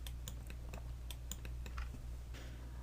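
Computer keyboard keys pressed for Cinema 4D shortcuts, a quick run of close, crisp clicks in an irregular typing rhythm over a low steady hum.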